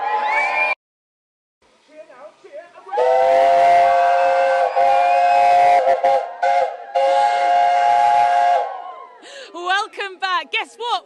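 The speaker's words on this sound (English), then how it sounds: "one of the original trains here at the Bluebell Railway" A heritage steam train's whistle on the Bluebell Railway sounds long and loud over rumbling rail noise, then breaks off into short blasts as voices chatter nearby.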